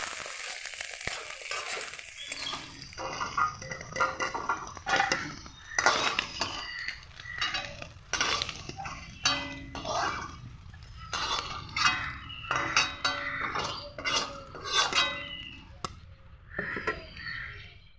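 Fried prawns are lifted from a pan with repeated short clinks and scrapes of a metal utensil, irregular and close, over a soft background hiss.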